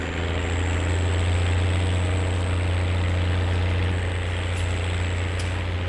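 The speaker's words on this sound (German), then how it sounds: "Ja, so ein alter Traktor hat einen richtigen Sound" In the Landwirtschafts-Simulator 19 video game, an old tractor engine idles with a deep, continuous low rumble and a steady pulsing drone, loud and unbroken throughout, with no talk.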